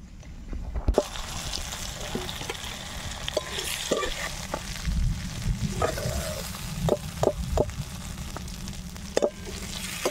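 More chicken pieces for a juicy dhaba-style fry sizzle in hot oil in a pan, a continuous crackling hiss broken by occasional sharp clicks and knocks from stirring.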